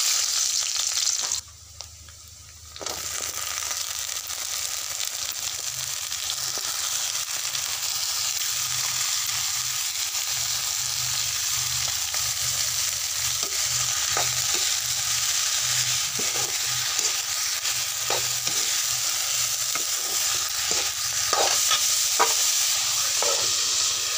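Onions frying in a home kitchen pan with a steady sizzle throughout, after a brief dip near the start, joined by scattered stirring clicks and scrapes that stand out more toward the end.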